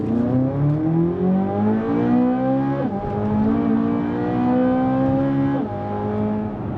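A Chevrolet Corvette C8 Z06 accelerates hard onto a highway, its engine note climbing steeply through two upshifts with brief dips between gears, loud and continuous from inside the car.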